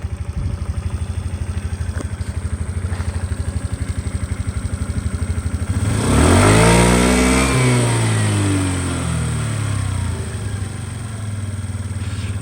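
A small fuel-injected Suzuki Let's 4 scooter engine putters at a rapid idle, then revs up sharply, winds back down and settles into a steady running drone.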